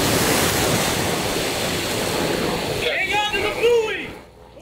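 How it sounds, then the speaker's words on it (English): Choppy ocean surf churns at a pier in Imperial Beach just after midnight, a steady loud roar of breaking water and wind that eases near the end as a voice briefly cuts in. "You see how choppy the surf was just after midnight."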